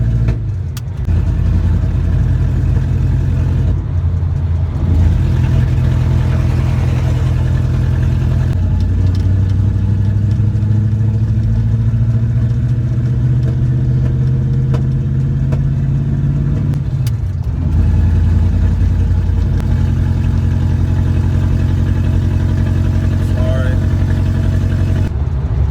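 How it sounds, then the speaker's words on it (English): The engine of a 1967 Plymouth Valiant runs roughly, loud and close, with a droning rumble that rises and falls as it revs, under a man's speech. "my car sounds like crap"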